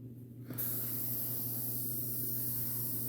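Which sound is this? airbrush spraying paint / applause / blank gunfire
airbrush spraying paint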